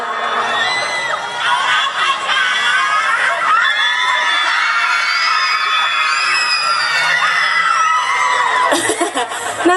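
At a concert, a large crowd screams shrilly and sings along loudly and continuously, a dense wall of voices with some scattered whoops near the end.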